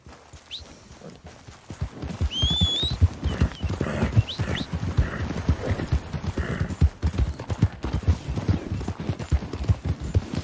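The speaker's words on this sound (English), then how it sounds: "Who's a good horse?" A horse in Red Dead Redemption II starts walking after a quiet moment, its hooves clip-clopping close and loud in an uneven rhythm, with a few faint high whistles and whines above.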